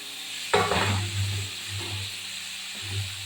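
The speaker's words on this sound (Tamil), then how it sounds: "இப்போ நம்ம முள்ளங்கியை போட்டுருவோம்." Radish pieces going into a pan to be sautéed for Tamil-style sambar, with a burst of stirring and scraping followed by a steady low sizzle, close and alone without talk.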